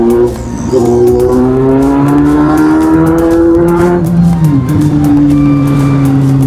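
A vehicle engine revving hard, its buzzing whine rising and falling through several gear changes, very loud and close from inside the vehicle, with no voices.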